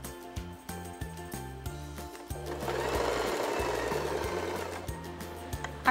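A sewing machine stitches fabric for an office outfit, its needle hammering in a fast steady rhythm with short pauses between runs, close and clear, with no talking.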